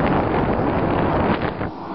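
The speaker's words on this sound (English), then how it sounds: "there's a lot of air coming out of there." Air rushes out of foil ducting from an air filter box drawing in outside air, a loud, close, broadband blowing roar that buffets like wind and eases slightly near the end.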